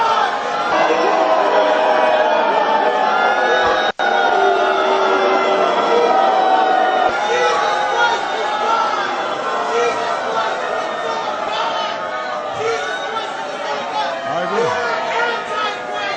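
A large crowd at a fundraiser chatters and calls out together, a sustained roar of many voices with shouts rising above it, fairly loud and close throughout.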